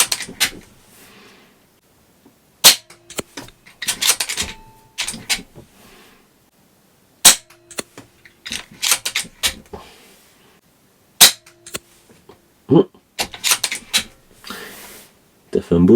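A KRAL Puncher NP-01 air rifle fires FX, Gamo and JSB pellets at a target. Sharp, close cracks come in irregular clusters with short quiet gaps between them, and some clicks of handling mix in.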